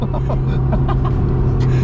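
A Nissan 370Z engine idles with a rough, rattling low rumble from a loose hanging exhaust, steady and close, while people talk faintly over it.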